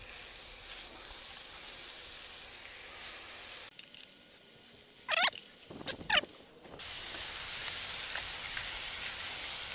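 About four half-pound chuck burgers pan-frying, a broad sizzling hiss that drops off midway while a few squeaky scrapes and clatters sound, then returns loud and steady.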